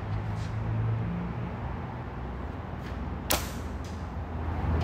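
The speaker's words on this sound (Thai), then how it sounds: "กติกาค ือใครยิงตัดไพ่ได้เยอะกว่าชนะครับพี่รัน" A slingshot fired at playing cards outdoors: one sharp snap and whoosh of a shot stands out near the middle against a constant, rushing background noise, with no talk.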